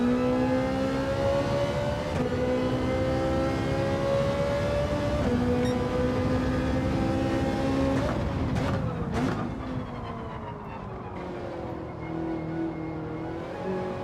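A Ferrari racing in Gran Turismo 7 gives a steady, loud engine drone that climbs in pitch through the gears. A brief clattering burst comes near the end, and no voice is heard over it.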